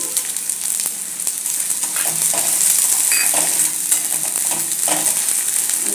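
Onion-garlic masala fries in a pan with dried shrimp, a steady close sizzle with occasional scraping as it is stirred, and no voices.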